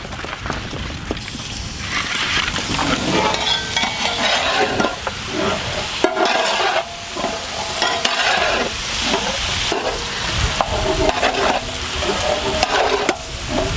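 Goat mutton sizzles and fries in a pan with onions while being stirred, giving a loud, continuous crackle broken by repeated scraping stirs, with no voices.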